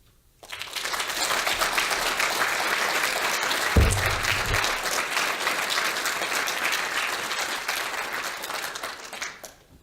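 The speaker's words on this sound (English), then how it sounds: "I think it's the perfect time to applause for all of them now." Audience at a university graduation ceremony breaks into dense, sustained applause that starts abruptly and holds steady for several seconds before fading, with no talking over it.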